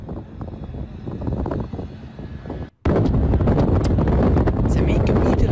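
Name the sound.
strong wind blowing near a fire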